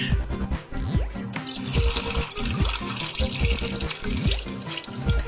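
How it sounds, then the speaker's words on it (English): Rinse water from a pot of beans being poured out into a kitchen sink, a steady splashing, gurgling stream close by with no voices. "Pour the water out."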